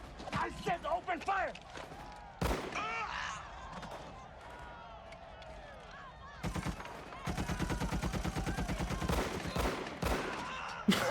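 Gunfire rings out in a film scene, with several sharp shots and rapid bursts mixed with voices and other movie sound.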